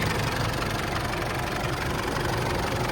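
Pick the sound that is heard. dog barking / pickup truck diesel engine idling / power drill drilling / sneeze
pickup truck diesel engine idling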